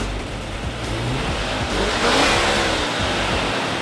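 A 1972 Ford Mustang with a 1970 351 Cleveland V8 rated at 300 horsepower, revving loudly up close in a continuous roar that swells toward the end, with no talk.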